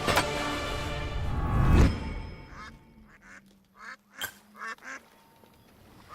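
Ducks quacking at the Duck Pond in the video game A Hero's Call, a loud burst of quacks up front followed by several shorter, fainter quacks spaced out afterward.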